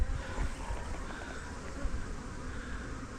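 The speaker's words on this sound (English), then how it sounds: "Got bees all around me" A swarm of honeybees buzzes close around a beekeeper at an apiary, a low continuous drone that stays fairly faint and steady for a few seconds.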